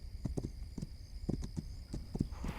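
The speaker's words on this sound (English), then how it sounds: "you hold shift to gallop on your horse" A horse galloping in the video game This Land Is My Land, with quick rhythmic clusters of hoof thuds repeating close by at moderate volume, alone without talk.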